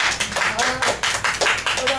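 Hands clapping in quick, uneven bursts at an 80th birthday gathering in Bilaspur, with voices talking over the clapping throughout.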